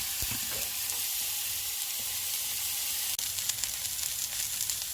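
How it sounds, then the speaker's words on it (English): Mushrooms and other bibimbap ingredients cooking in a pan, with a steady, fairly quiet sizzle running throughout and occasional light stirring, no voices. "I add this mushroom. Ingredients are cooking."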